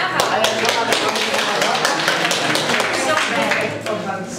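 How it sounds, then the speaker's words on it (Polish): Loud, dense applause from an audience at an award ceremony for a flowering-balcony contest, a steady wash of clapping that holds for the whole stretch and eases slightly near the end. "Brawa!"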